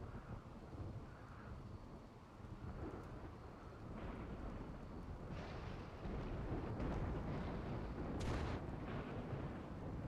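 Thunder from a rainy thunderstorm in the video game RimWorld, a long low rumbling roll over steady rain hiss, swelling louder in the second half with a few distant cracks.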